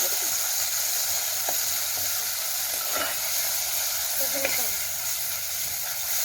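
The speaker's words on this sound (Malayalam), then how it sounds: "ഇനി നമ്മൾ അരപ്പിട്ട് മൂപ്പിക്കുകയാണ് ഈ എണ്ണയിൽ ഈ അരപ്പിട്ട് പൊട്ടിക്കണം" Ground spice paste for a pepper sardine curry fries in oil with a dense, continuous hiss and crackle, close and loud. Occasional soft clicks of a spoon sound against the pan.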